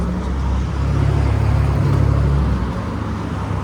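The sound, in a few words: road traffic passing in town in early morning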